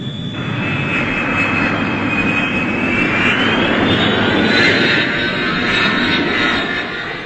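The engine of a CF-100 jet fighter gives off a loud, steady roar with a high whine that slowly rises in pitch, close and constant throughout with no voices.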